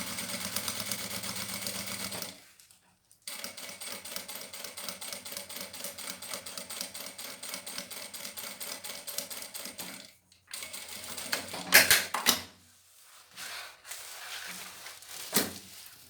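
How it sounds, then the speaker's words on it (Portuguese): A sewing machine runs slowly through thermal Etaflon lunch bag lining with a wide stitch, a steady close mechanical whir in long stretches broken by brief pauses and a few sharp clicks, with no talking. "Tô usando um ponto 5 e costurando devagar."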